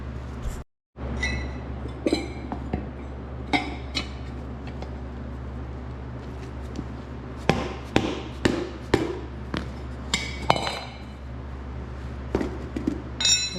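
Hammer striking the metal wheel rim of a Craftsman lawn utility vehicle: a series of sharp, irregular metallic taps and bangs, some clustered in quick bursts, fairly close over a low steady background hum.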